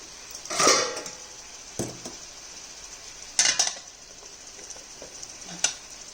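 A pan of fish in tamarind curry is tossed to turn the pieces: a few separate swishing, sizzling bursts with light metal clatter, spaced a second or two apart over a quiet simmer, no talk.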